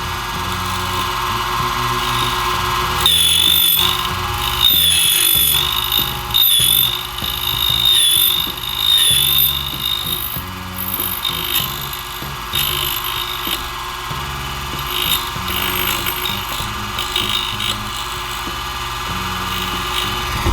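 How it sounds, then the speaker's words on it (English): A key cutting machine runs loud and close as it cuts an HD106 transponder key blank, a constant motor whine with grinding, chattering bursts as the cutter works along the blade, no talking. "we'll get the machine on and we'll cut."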